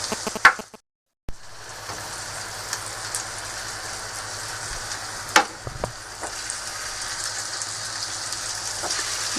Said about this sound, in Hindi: अब इसे मैंने बहुत हल्की आग पे रखा हुआ है